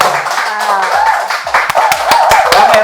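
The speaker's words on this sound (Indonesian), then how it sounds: "ada penonton bayaran, tepuk tangan dong" Clapping from a small paid studio audience at an Indonesian campus podcast, dense broadband claps running throughout under lively, overlapping chatter and laughter.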